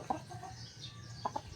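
A Talisay Grey hatch chicken clucks in a backyard farm, a few short soft clucks near the start and end, fairly close but quiet, with no talking.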